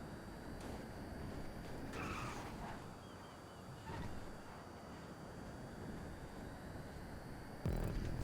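An electric car in GTA V drives and skids, giving a faint continuous hum of motion and tyre noise with a few scrubbing skid bursts and a sharper thump near the end.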